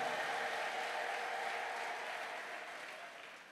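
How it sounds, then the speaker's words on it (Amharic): A church congregation applauds in praise, a steady wash of clapping that slowly fades. "እልልታ ለእግዚአብሔር ክብር እልልታ ለኢየሱስ"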